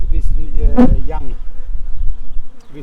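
Honeybees buzz near a large apiary hive, a close, loud burst of droning wingbeats that swells and fades over a few seconds.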